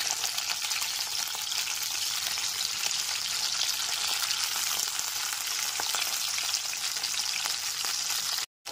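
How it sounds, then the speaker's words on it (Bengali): Fish sizzle in oil in a pan over a medium gas flame, a steady close crackling hiss that runs evenly for the whole stretch before cutting off abruptly at the end. "মাছগুলো ভাজার সময় গ্যাসের ফ্লেমটা মিডিয়ামেই রাখবো"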